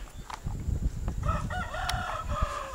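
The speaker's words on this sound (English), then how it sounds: "And that stupid rooster." A rooster crows at a campsite, its call rising clearly over a bed of low rumbling background noise.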